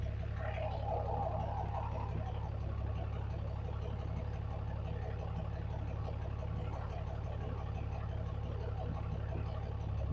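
A 2014+ RAM 3500 truck engine idles steadily and close by, with a faint airy hiss from a leaking turbo mount gasket blended into the constant low rumble.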